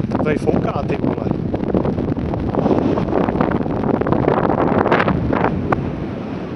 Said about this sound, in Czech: Tady fouká